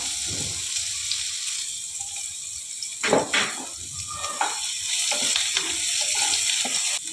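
Chopped onion hits ghee in a pan for suji upma, giving a continuous frying sizzle that flares into sharper crackling bursts midway, then settles into a steady hiss without talk.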